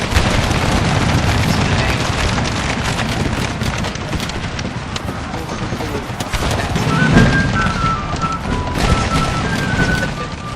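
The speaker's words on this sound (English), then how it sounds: "The whole line just opens fire." A line of soldiers firing volleys in a Civil War game mod, dense continuous crackling gunfire with heavy booms, loud and sustained, with a faint whistling tone near the end.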